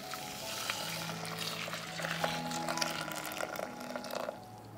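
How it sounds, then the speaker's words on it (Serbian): Boiling water is poured over 50 grams of dried hibiscus, a soft liquid pour with a bubbling, crackling fizz, quiet and close, lasting a few seconds before tapering off. "50 grama hibiskusa preliću sa proključalom vodom"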